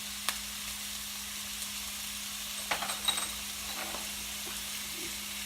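Chopped shrimp fry in a pan with a faint, steady sizzle, broken by a few light clinks of a utensil against the pan.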